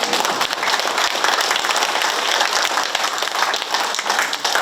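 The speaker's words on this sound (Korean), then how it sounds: "우리는 박수 한번 보내세요" A crowd claps continuously, a dense, steady patter of many hands at even loudness, with no voices standing out.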